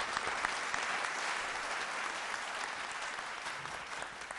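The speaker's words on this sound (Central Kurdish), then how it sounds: "زۆر سوپاس چەپڵەکانتان" A studio audience applauds the contestants on a television competition show, a steady, dense clapping that carries on evenly without pause, fairly faint.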